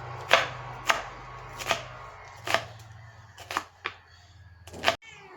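Knife slicing food finely on a board for a village-style chicken curry, about nine distinct sharp chops spaced irregularly, close and crisp against a quiet background.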